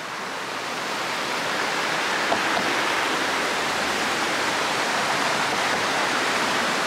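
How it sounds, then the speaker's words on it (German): The Böhme river in Bad Fallingbostel gives a steady, broad rushing hiss of flowing water that rises slightly in the first second and then stays constant, with no voices. "Und der Fluss hier ist die Böhme."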